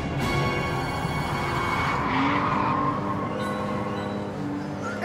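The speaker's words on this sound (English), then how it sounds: "You do a bit of skidding and sliding." A Porsche Cayman skids and slides on a race track, with a continuous loud tyre squeal and an engine roar that holds steady throughout, heard fairly close.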